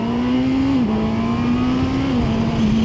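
Honda CB650R E-Clutch motorcycle accelerating hard in first gear, a loud, steady engine drone that climbs and dips slightly as revs shift, continuous and close throughout with no talking.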